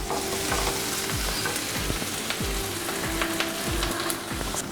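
Sweet corn and mixed vegetables for Indian-style white sauce pasta fry loudly in a pan, a dense crackling sizzle punctuated by regular thumps and scrapes of a spatula stirring them.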